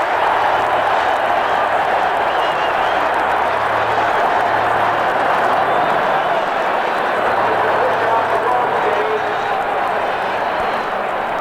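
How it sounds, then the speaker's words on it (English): A big football stadium crowd at a USC game roars loudly and continuously after a fumble recovery, a dense, sustained wash of cheering with no pauses. "Listen to this crowd."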